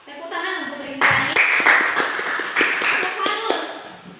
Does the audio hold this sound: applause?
yes